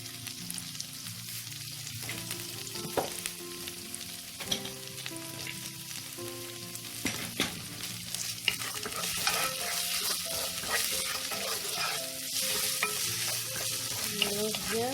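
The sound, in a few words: stirring potato soup base in a pan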